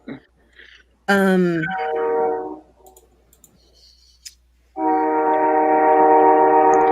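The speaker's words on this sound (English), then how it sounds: "Well, there's a train. Yes, I have trains by my house." A train passes close to a house, sounding a loud sustained horn in two long blasts separated by a quieter gap, with rumble underneath.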